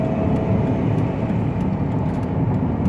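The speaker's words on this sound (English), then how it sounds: "Give it some gas." Engine of a 2005 Dodge Caravan SE wheelchair mobility van accelerating, a steady, continuous road drone with rumbling low end heard from inside the vehicle, no talking.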